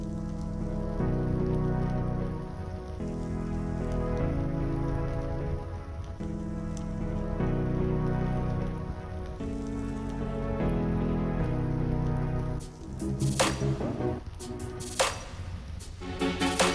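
Water sprays over a Porsche 928 with faded paint in a steady, close hiss that runs for several seconds, then breaks into sharper splashing bursts near the end.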